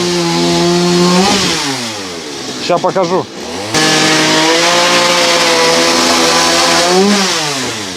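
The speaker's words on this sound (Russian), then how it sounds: "А вся работа выполняется бензопилой." A chainsaw cutting timber beams for a house build drones and revs steadily, briefly cutting out, then roars back up, with someone speaking over it.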